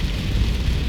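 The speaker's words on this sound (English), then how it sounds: "the rain starts to fall a little more heavily now" Rain falls steadily on a town street in Las Vegas, a dense continuous hiss and patter with no distinct breaks, moderately loud and close, no voices.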